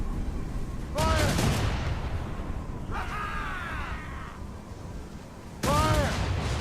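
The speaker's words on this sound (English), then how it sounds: "They are firing a volley!" Ship cannons fire volleys in the video game Assassin's Creed Rogue during a naval battle. Three loud booming bursts land a few seconds apart over constant sea and wind noise, with shouting voices mixed in.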